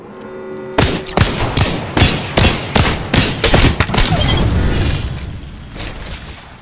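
Rapid video game gunfire in a squad shooter match: a dense run of about a dozen sharp, loud shots fired in quick succession, tapering into scattered fainter reports and a low rumble, with no talk over them.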